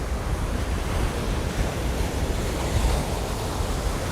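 Ocean surf rolls onto a broad beach in a constant, dense wash of breaking waves, with wind buffeting the microphone throughout and no voices.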